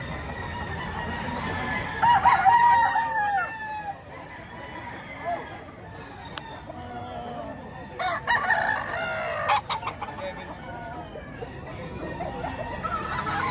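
Roosters crow repeatedly amid clucking chickens at an auction market in Lipa City, a noisy outdoor setting, with people talking in the background.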